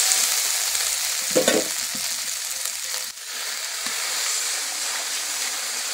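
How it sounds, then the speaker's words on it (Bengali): Spice paste frying in a wok as water is poured in, a dense hiss of sizzling with a brief burst of bubbling and splashing near the start, then a softer, even simmer; no one speaks. "মশলাটা ভালো করে ভাজা হয়ে গেছে, এবার জল দিয়ে দেবো।"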